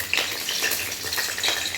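Green chilies hit hot oil in a pan for a vegetarian dish, giving a bright, crackling sizzle with small popping bursts, close and continuous.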